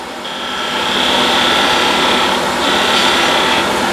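Skew chisel cutting a deep cove into spinning wood on a lathe, a loud close scraping hiss with a sustained high whine, easing briefly mid-cut before continuing.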